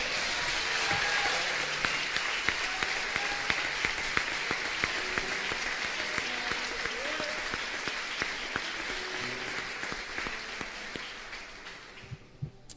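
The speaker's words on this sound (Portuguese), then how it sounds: "Aplauda o Senhor." A church congregation claps and praises the Lord with long, steady applause that fades toward the end, with scattered voices and cheers mixed in.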